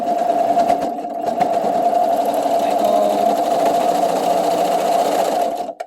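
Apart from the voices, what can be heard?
sewing machine stitching fabric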